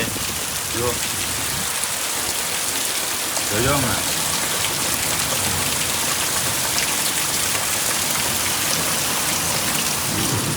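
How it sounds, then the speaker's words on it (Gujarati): Heavy rain pours steadily during a thunderstorm at a cow shelter, a loud, unbroken roar of downpour filling the whole stretch, with someone speaking briefly over it. "વરસાદ આમ હટીને પડે રહ્યો"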